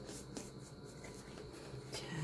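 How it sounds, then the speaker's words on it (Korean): Paper is folded and pressed down firmly by hand while making a notebook with traditional five-hole binding: soft, faint rubbing and creasing strokes up close, with no talk. "자, 이렇게 손으로 꾹꾹 눌러서 접어주시면 됩니다"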